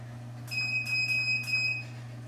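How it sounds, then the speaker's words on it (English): A loud electronic alarm beeps in four sharp pulses over a steady low hum, with no speech, during a yoga session on a vibration board. "Someday I'll figure out how to make my alarm not be so darn loud."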